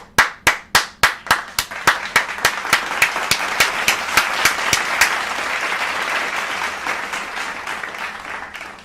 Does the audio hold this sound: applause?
yes